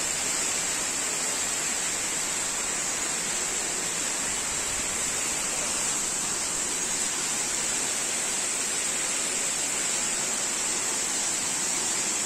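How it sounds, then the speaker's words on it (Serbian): Ilomski waterfalls, set among rocks and forest, pour with a continuous roaring rush of falling water, heard up close and steady without a break. "ispod vodopada"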